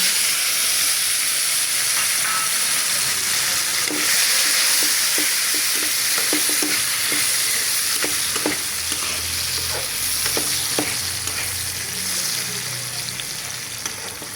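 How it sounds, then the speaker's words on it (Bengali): Cashews and raisins fry in a pan for chicken biryani, a loud, steady hiss of sizzling oil with a series of light stirring taps and clicks through the middle, close up and uninterrupted by talking. "কাজু আর কিশমিশটা ভাজবো।"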